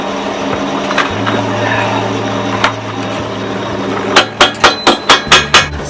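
Hammer chipping slag off a fresh weld on a loader for a Massey 50 tractor: a run of about seven sharp metallic strikes near the end, after a steady hum of shop background noise.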